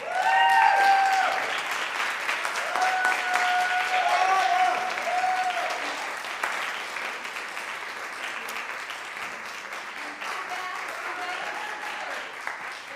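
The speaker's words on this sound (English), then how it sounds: "we have to give a round of applause to Michael Fabiano" An audience claps for a visiting opera singer at the close of a masterclass, with loud applause that slowly thins, plus scattered cheers and voices chattering over it.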